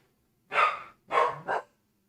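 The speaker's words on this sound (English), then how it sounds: "There's Max barking." A dog barks three times up close: two longer barks, then a quick shorter one, loud and alone against a quiet background.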